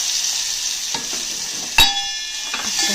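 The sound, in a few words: onions and tomatoes frying in a pan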